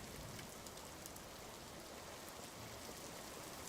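Rain falling in a Minetest block world, a constant soft broadband hiss of drops on surfaces, even and unbroken throughout, fairly quiet with no talking.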